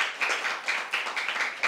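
People at a service event for disabled persons clap in steady, rhythmic applause, close by and fairly bright, with no talk over it.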